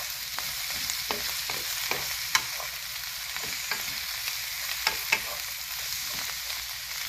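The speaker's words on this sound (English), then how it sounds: "once you have the cabbage cooking in here for a while, you're going to turn the heat up to medium" Cabbage stir-fries in a pan for a spicy Szechuan dish, a continuous soft sizzle broken by regular scraping stirs and occasional sharper clicks, heard up close with no voices.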